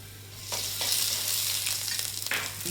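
Turmeric powder fries in oil on low heat while a spoon stirs it, a close, even sizzle with brief scraping swells, and no voices.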